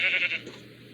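A single short sheep bleat from Minecraft, loud and close at first, then quickly fading out.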